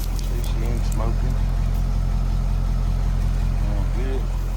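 A Foretravel Grand Villa motorhome engine idles steadily and close, a constant low rumble with someone speaking briefly over it.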